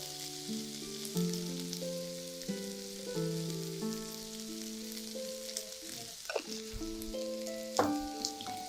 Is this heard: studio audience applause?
no